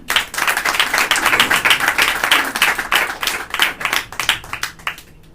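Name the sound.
audience clapping at stand-up comedy show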